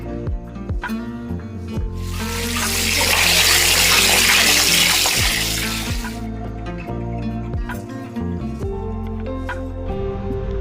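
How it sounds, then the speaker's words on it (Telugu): Water gushes and splashes as fish are rinsed in preparation for a Warangal-style fish curry, a surge of running water swelling for several seconds over a steady background before fading back. "చేపల్ని బాగా కడిగిన తర్వాత"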